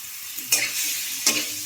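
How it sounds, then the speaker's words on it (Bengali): Cauliflower florets frying lightly in a kadai, a steady close sizzle broken by two sharp spoon scrapes about a second apart. "ফুলকপিগুলো দিয়ে আমি একটু ভেজে নেবো হালকা করে"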